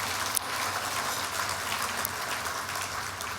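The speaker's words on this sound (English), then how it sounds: "Let's give Nate a round of applause wherever he is." Audience applause at the 2023 Top 7 Over 70 gala, a dense, steady wash of clapping from a large room that holds evenly for several seconds with no voices over it.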